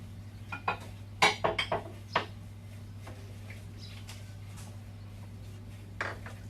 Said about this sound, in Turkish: Bir çay bardağı süt ve 1 çay bardağı toz şeker. Güzelce karıştırıyoruz.